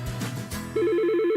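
A telephone rings in a radio advertisement, a steady repeating electronic trill that comes in loud and clear partway through, on its own with no talking.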